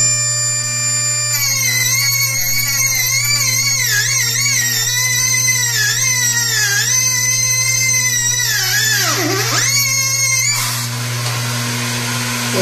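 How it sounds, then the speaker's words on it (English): A high-speed grinder whines steadily, its pitch sliding and warbling as it cuts a balance correction mark into a rotor on a VSR balancing machine, with a constant low hum underneath and the grinding cutting off abruptly near the end. "so this is telling us to grind right there"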